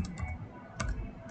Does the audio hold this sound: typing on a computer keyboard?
yes